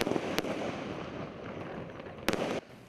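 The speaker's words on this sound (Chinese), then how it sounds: "灿烂烟火照光夜空" Fireworks burst over Sanxing Township in Yilan for Valentine's Day: two sharp, loud booms stand out over a steady, distant crackle and rumble filling the night air.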